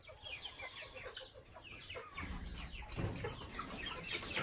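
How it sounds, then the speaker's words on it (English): Several blue laced red Wyandotte chickens of mixed kinds cluck softly at close range in a farmyard, with faint rustling and overlapping bird calls throughout. "This is not the meat chickens, that's your blue lace red Wyandottes."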